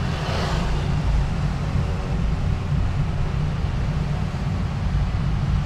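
Busy rush-hour traffic jam outside a Honda BR-V N7X Prestige with its windows open: a dense, steady roar of engines and road noise, fairly loud, without distinct passing vehicles or talk.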